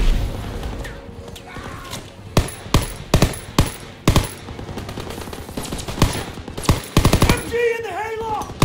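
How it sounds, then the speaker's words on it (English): A machine gun firing from a farmhouse hayloft in the Call of Duty WWII D-Day landing, rapid bursts of sharp shots over rumbling battle noise, with shouting voices and whistling shells mixed in. "MG in the hayloft! Take cover! Hit the MG!"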